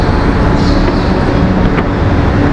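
A metro train in Chennai arrives at a station with a loud, steady rumbling roar that fills the whole moment, dense and close, with no distinct voices.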